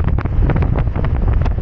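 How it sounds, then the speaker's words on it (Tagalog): Strong wind buffets the microphone beside the sea at Candayuman, Southern Leyte, a steady loud rumble with gusty surges and no talking. "Medyo malakas lang yung hangin, oh."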